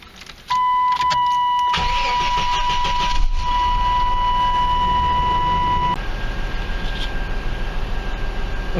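A 30-year-old Chevrolet S10 Blazer with a 4.3 engine and a leaking head gasket cranks briefly, catches and settles into a steady, loud idle that runs on to the end, with a high whine riding over the engine.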